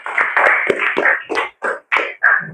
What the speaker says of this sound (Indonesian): Beri tepuk tangan untuk Laila